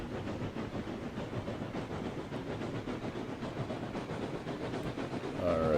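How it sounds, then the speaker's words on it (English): A big locomotive runs in the RailRoads Online railway game, a steady rumbling chug with hiss and clanking wagon noise continuing throughout, loud and close with no talk. "Big locomotive. That is for sure."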